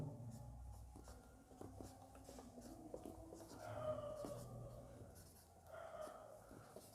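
Chalk or marker scratching out a topic name on a classroom board during a maths lesson, in faint, short strokes with soft breathing and quiet background noise.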